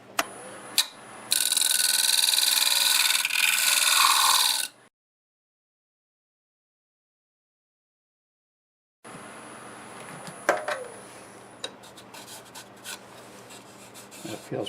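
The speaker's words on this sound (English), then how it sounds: "Get my scraper now, actually. I'll clean this up." A wood-turning scraper cleans up a black locust bowl on a lathe with a steady, close hissing rasp for a few seconds before cutting off, followed by silence and then softer scraping and tool clatter.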